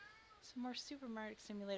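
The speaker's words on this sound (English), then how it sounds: "I once again apologize if you hear pathetic meowing in the background" A pet cat named Vidal meows plaintively several times in a room, the drawn-out wavering cries rising and falling close by, with a person talking at the same time.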